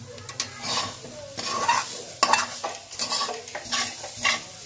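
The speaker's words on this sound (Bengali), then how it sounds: "কড়াইতে এটা কিন্তু ঘন ঘন নাড়তে হবে যাতে কড়াইতে নিচে লেগে না যায়।" Fish paste for a fish coating is stirred in a kadai over very low heat, a spoon scraping repeatedly against the pan bottom in uneven strokes, with faint sizzling underneath and no talk.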